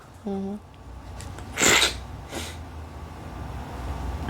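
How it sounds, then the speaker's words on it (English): A single sharp sneeze bursts out, loud and close, followed by a quieter snort-like breath, over a low background hum. "That sneeze really messed me up."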